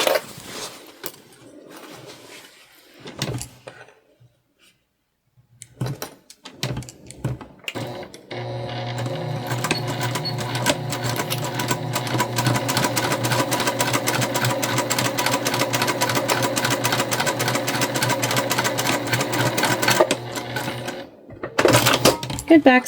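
Sewing machine stitching together both sides of a holiday make-up bag, a steady close mechanical whir running unbroken for about twelve seconds after scattered handling clicks, with brief speech at the edges.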